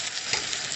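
Egg frying over medium heat in a pan for an omelette, a brief steady close sizzle with no talk.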